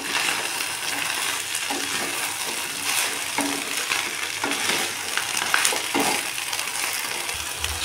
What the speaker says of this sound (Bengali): মশলাটা ভালো করে কষানোর পর কেটে রাখা ওল দিয়ে দেব।